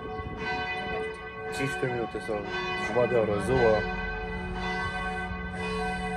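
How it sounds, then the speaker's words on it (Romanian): A church bell in Stuttgart rings steadily with a sustained metallic tone, while a voice speaks over it in Romanian partway through; the bell stays prominent and continuous throughout. "clopotul ăsta, din cât în cât timp are?"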